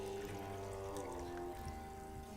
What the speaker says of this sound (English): you fill this lota with the water.